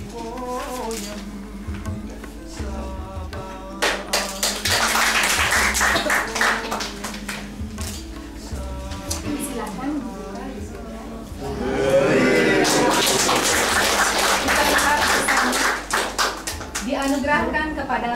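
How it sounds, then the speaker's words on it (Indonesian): Audience applause at a Bali award ceremony, bursts of clapping rising loud and dense around the middle and again later, mixed with background music and voices. "Tepuk tangan sekali lagi."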